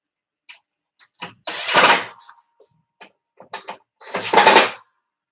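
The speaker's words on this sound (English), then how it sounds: "you can hear those springs in there shaking around." Loose springs rattle and shake inside a part during a kit build, coming in two longer bursts of rough, close-up clatter with a few shorter knocks between them and no one talking.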